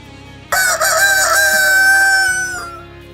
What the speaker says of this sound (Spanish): enseguida cantó un gallo